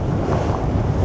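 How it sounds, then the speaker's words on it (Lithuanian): Strong seaside wind buffets the microphone in a steady, loud roar, with the rumble of surf blended beneath it and no voices. "Vėjas nežmoniškas."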